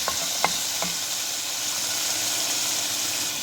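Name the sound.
ginger garlic paste frying in a pan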